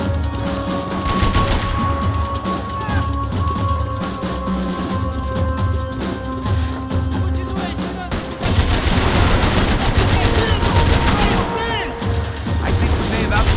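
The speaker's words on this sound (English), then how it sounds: "I can't concentrate with bullets whizzing past my head!" Max Payne 3 video game firefight: dense bursts of gunfire crackle steadily over a droning music bed, turning louder and busier in the second half.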